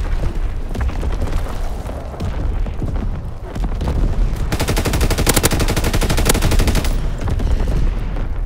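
Primary battery firing in Call of Duty: WWII, loud booming blasts followed by a sustained rapid rattle of gunfire and explosions, mixed into a dense battle din with no speech.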